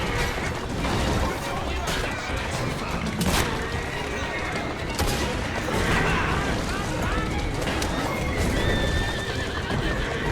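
Horses pulling a carriage in Assassin's Creed Syndicate, with steady clip-clop of hooves and repeated neighs and whinnies over a continuous rumble of wheels, loud and close throughout.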